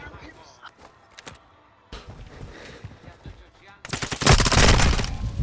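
Rapid bursts of gunfire from a Call of Duty match, erupting loudly near the end after quieter scattered shots, with players' voices talking over the action.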